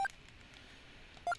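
Telephone dialing tones in the Snatcher video game: one clear keypad beep at the start and another near the end, separated by quiet, with no talk.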